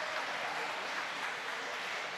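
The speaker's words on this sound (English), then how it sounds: "Nice round of applause for him." Faint applause from a swim meet crowd for a diver during a Darien vs. New Canaan boys varsity meet, a soft, even patter of clapping lasting a couple of seconds.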